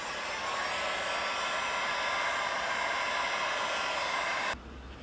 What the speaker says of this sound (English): I go over all the edges with the heat gun again